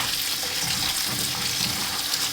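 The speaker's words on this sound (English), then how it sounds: "Our leeks are all cut up now, so I'm going to give them a good rinse." Chopped leeks being rinsed under a running kitchen tap, a steady, close hiss of flowing water filling the sink with no pauses and no talk.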